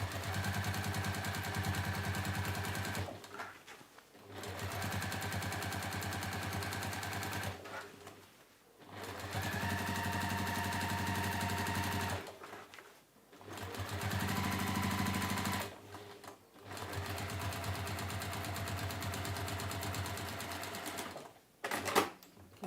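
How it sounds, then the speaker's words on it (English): A sewing machine stitches a tote bag seam in steady, loud whirring runs of a few seconds each, separated by brief pauses, with no voice over it. "but I'm just letting my sewing machine"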